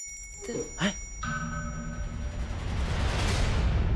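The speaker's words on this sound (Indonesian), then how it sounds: "itu kan lonceng" A bell rings out in a village setting, a few short bright chimes near the start followed by a sustained ringing tone that hangs over a steady noisy background.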